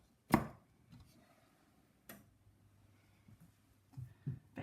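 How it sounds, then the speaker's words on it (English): A long onion being broken apart by hand for spaghetti bolognese, with a few sharp, crisp snaps and crunches close by, separated by quiet pauses. "I see quite a long onion, so I'm going to break that up for this."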